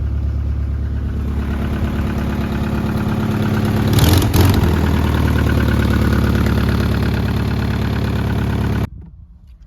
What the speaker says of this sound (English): First official test drive of the Celica.